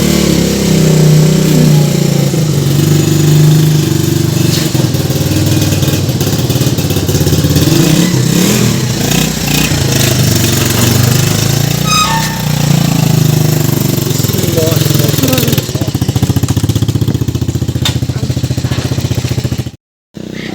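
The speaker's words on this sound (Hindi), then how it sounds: "मोटरसाइकिल निकाले हमाद।" A motorcycle being brought out at home runs steadily close by, a loud continuous engine drone throughout with a slight rise in revs partway, no talk, and cutting out abruptly just before the end.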